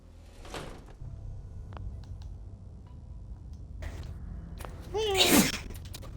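A character sneezes in a sewer area during a Fallout 4 playthrough. One sharp, close sneeze bursts out near the end over low ambient game rumble and scattered soft sounds.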